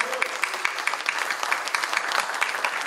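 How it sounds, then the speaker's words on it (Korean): Loud, sustained crowd applause with scattered whoops and cheers fills the hall at a community forum launch and policy debate in Hongseong, steady dense clapping throughout with no break. "커다란 박수와 함성 부탁드려도 될까요?"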